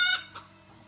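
A chicken clucks in a Konkan village near Dapoli, a loud squawk up close followed by a softer second cluck, then quiet.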